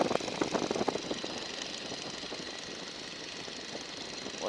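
A 1942 Boeing Stearman biplane engine, throttled back to about 1,400 RPM in flight, gives a steady, rough drone with a throbbing knock, heard close and without talk.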